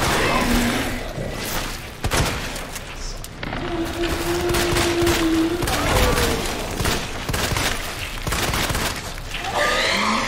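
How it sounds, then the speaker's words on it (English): Gunfire in Resident Evil 2 Remake comes as a rapid series of sharp, loud shots mixed with heavy booms and game effects, dense and continuous across the stretch. "I'm gonna shoot it."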